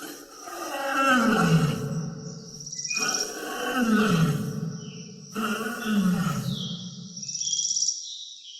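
A lion roars in three long, powerful bouts with brief gaps between, each call deep and rumbling, then falling into grunting tails, close and loud.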